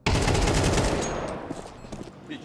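Pistol gunshots in a competitive Counter-Strike esports match, a sharp loud burst of rapid shots at the start that quickly fades into a decaying echo, with no talk over it.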